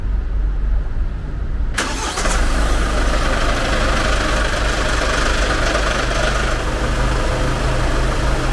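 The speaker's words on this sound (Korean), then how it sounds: "확실히 엔진 소리가 조용해진 것 같아" A Hyundai Solati camper van's diesel engine idles steadily with a low mechanical hum, after a sharp knock-like onset; no voices, just the continuous running drone.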